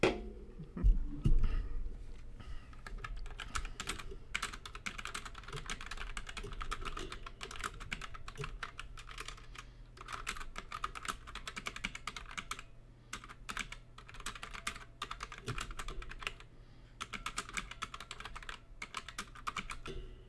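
Steady, fast typing on a computer keyboard while entering a text prompt, with dense clattering keystrokes and brief pauses running throughout, close and alone without any voices.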